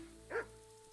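Single short dog bark in an RPG video game, faint and brief against a quiet background hum.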